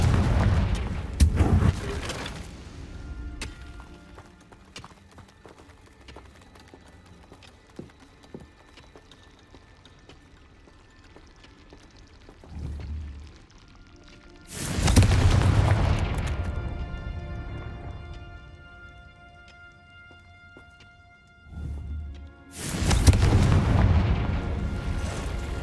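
Booming spell explosions from the Hogwarts Legacy video game, with a few loud broadband blasts spaced apart over quieter game ambience.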